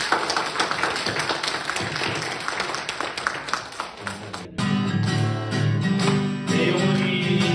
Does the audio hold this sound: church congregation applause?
yes